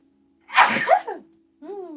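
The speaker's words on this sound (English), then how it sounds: "Oh, I may sneeze." A single sharp sneeze, close and loud, followed by a short voiced sound.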